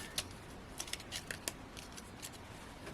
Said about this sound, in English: and just trimming. Let's hold the scissors properly, shall we?